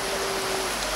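Vinegar is poured generously, giving a brief, dense, splashing hiss throughout the short moment.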